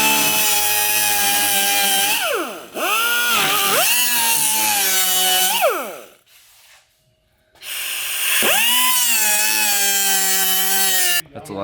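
Power tool cutting through a rusted car body panel, a loud rasping whine that rises and falls in pitch across several passes, stopping briefly before a final long cut.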